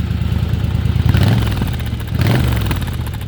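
A motorcycle engine idles with a steady, rough low rumble and light mechanical clatter, close and loud, with no talking.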